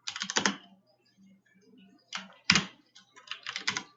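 Code being typed on a computer keyboard, close-up clatters of keys in quick bursts separated by short pauses, with a sharper keystroke in the middle.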